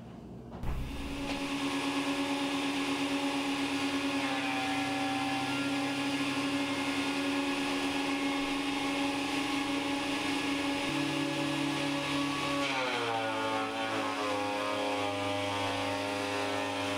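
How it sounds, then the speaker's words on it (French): A homemade cyclone workshop vacuum cleaner runs steadily, a loud sustained motor whine with layered tones that drops in pitch near the end as the load changes, alone with no talk. "Je vais vous faire voir l'aspirateur."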